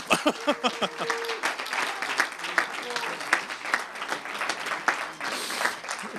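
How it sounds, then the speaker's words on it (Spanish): Audience applause fills an auditorium at a national popular-music composition contest, a steady dense patter of clapping running throughout with voices mixed in. "¿Le damos aplauso o no?"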